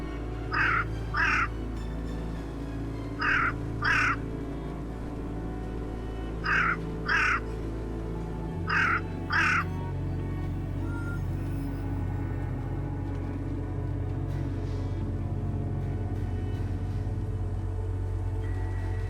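Crows caw in paired harsh calls, four spaced doublets repeating steadily over a low steady rumble of background noise, moderately distant and alone without talk.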